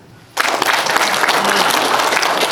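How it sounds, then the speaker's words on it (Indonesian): Sudden loud burst of audience applause during a lecture by a rector of IAIN Pontianak, dense continuous clapping from a crowd that starts abruptly and carries on steadily. "Kok ada tepuk tangan?"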